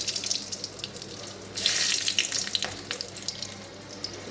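Whole garam masala hits hot oil in a pan, a bright hiss and crackle that surges about halfway through and then settles into steady sizzling, close and fairly loud, with no voices.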